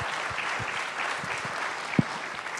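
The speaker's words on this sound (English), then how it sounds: "can we give our panel a round of applause as say thank you so much?" An audience applauds a panel at a student event, a steady wash of clapping throughout, moderately distant and even, with one sharper nearby thump near the end.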